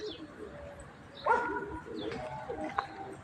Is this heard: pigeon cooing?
yes